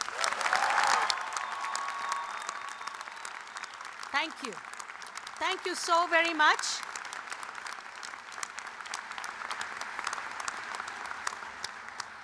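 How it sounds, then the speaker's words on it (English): Applause from a nursing commencement audience fills the start, fairly steady and moderate, then thins out as someone speaks briefly over the tail of the clapping. "Let me hear a big round of applause."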